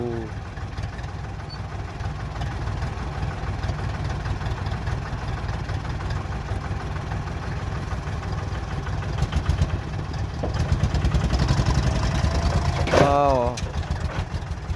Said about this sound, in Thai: เป็นเครื่องตุกๆครับ เป็นเครื่องอีเตนครับ